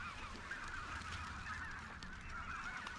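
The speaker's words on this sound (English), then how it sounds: "We just can't compete with those live ducks." A large flock of live waterfowl calling on an Arkansas duck hunt, heard as a dense, continuous wash of honking and quacking from many birds at a distance, quiet and unbroken throughout.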